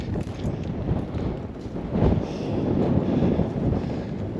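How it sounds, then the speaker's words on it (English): Wind sweeps across a high cliffside at Picture Canyon, a low continuous rumbling gust that swells toward the middle and stays strong to the end. "A little windy up here"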